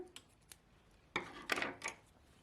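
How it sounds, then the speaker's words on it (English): Scissors snip through crochet yarn in three quick close cuts near the end, after a few faint light taps. "you are going to cut off this yarn here"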